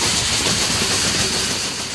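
A steam locomotive train running, with a loud, close, continuous broadband hiss of steam over rumbling rail noise, steady throughout with no speech.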